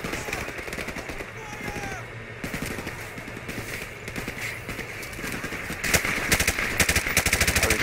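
Rapid automatic gunfire in Call of Duty Modern Warfare Remastered, bursts of quick shots that grow louder and denser toward the end, with battlefield ambience and faint chirps underneath.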